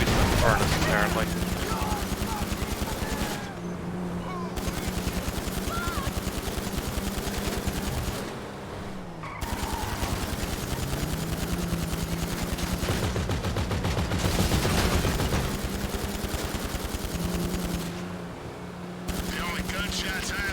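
Gunfire in the video game GTA Online, sustained rapid automatic bursts in long stretches with brief pauses, loud and close, with a low engine drone beneath.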